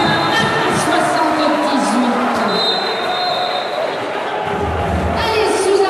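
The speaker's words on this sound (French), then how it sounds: "sous un tonnerre d'applaudissements" Loud, steady crowd applause and cheering fill a gymnasium at a French basketball game between Challans and Orchies after a basket, with bouncing and arena noise mixed in under a commentator's voice.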